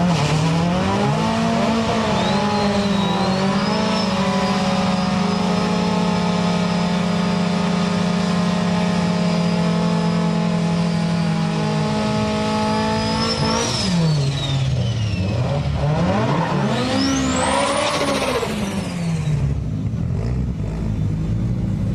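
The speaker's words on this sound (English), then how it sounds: "This 180SX, built by Top Fuel, has a massive Truss T88 34D turbo." A Nissan 180SX fitted with a huge Garrett T88-34D turbo launches and accelerates hard, its engine holding a loud steady drone before revving through rising and falling sweeps with whistling turbo tones, close and alone.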